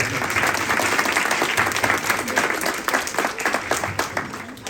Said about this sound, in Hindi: पहले तो बच्चों के लिए बहुत ज़्यादा तालियां